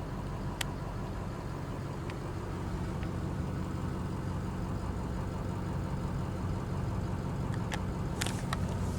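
A 2007 Ford F-350 Super Duty with the 6.0-liter Power Stroke diesel V8 idles steadily at close range, a low continuous rumble with a few faint clicks and ticks over it, no voices.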